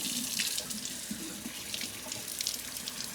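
Tap water pours steadily into a sink while yellowtail snapper is rinsed, a close, continuous splashing rush with small bursts of spatter.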